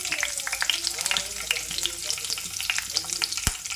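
Whole spices, cloves, cardamom, cinnamon and shahi jeera, crackle in hot oil with green chillies, a close, busy sizzle peppered with sharp pops and one firm clack of a utensil.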